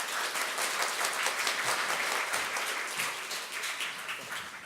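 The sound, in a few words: audience applause welcoming a speaker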